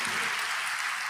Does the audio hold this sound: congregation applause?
yes